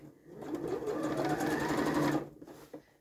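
A sewing machine runs a long 3.5 stitch to attach binding on a toile bodice, making one continuous close mechanical whirr of about two seconds that starts and stops abruptly, with no voices.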